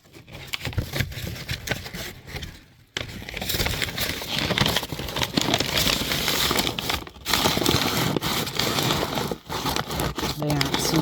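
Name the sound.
crumpling a paper bag for a worm bin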